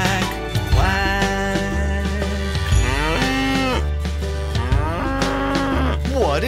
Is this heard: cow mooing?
yes